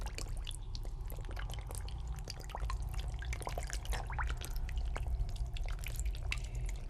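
Water drops bead up on a lotus leaf and roll off its surface, falling as small spheres. Quiet, scattered drips and tiny splashes tick irregularly throughout, soft and close, with no voices.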